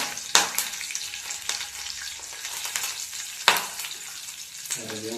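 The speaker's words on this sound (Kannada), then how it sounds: "ಜೀರಿಗೆ ಫ್ರೈ ಆದ ನಂತರ ಕರಿಬೇವು ಸೊಪ್ಪು ಹಾಕೋದು." Cumin seeds and curry leaves frying in oil in a pan, a continuous crackling sizzle with two sharp clinks of a utensil and occasional stirring.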